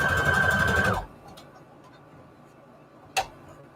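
A sewing machine stitches lace and fabric scraps together in a loud, steady whirring run for about a second. It then stops, and only a faint click follows.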